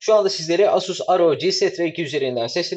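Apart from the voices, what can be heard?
No everyday noise stands out behind the speech.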